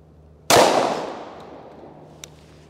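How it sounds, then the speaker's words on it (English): A single loud .45 ACP gunshot striking homemade body armor, a sharp crack that rings and decays over about two seconds, followed by a faint small tick, no voices. "All right, we'll go ahead and try the 45 ACP"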